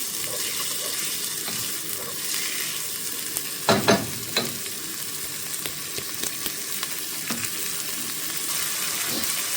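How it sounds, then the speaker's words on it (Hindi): Peas pulao with salt fries in a pot, a steady sizzling hiss broken by a few clustered stirring scrapes and clinks near the middle, no speech. "और ये हम इसको अच्छे से भून लेते हैं।"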